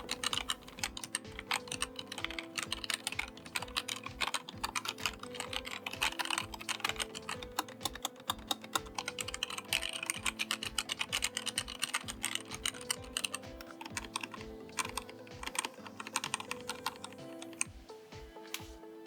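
Continuous typing on a Roccat Vulcan Aimo 120 keyboard with Titan switches fitted with HyperX Pudding keycaps, a dense, steady clatter of close keystrokes with no talking.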